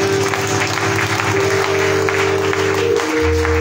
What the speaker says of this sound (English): Let us clap our hands on the Lord